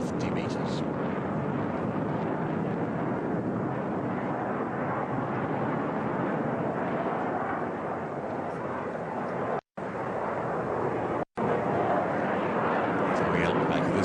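A HAL Tejas jet fighter roars loudly and steadily throughout a slow-speed left-hand minimum-radius turn at an air show, with a commentator talking over the continuous engine noise and two brief dropouts near the end.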